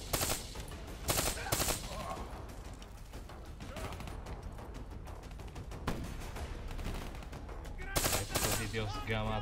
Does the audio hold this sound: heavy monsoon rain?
no